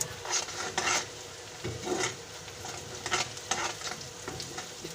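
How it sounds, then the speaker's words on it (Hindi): Coriander and cumin being stirred into frying onions for a fish egg curry, a soft continuous sizzle with rhythmic scraping and clinking of a spoon in the pan, no one speaking. "ये धनिया और ये जीरा ये डालेंगे इसके अंदर। इसको अच्छी तरह मिक्स करते हैं।"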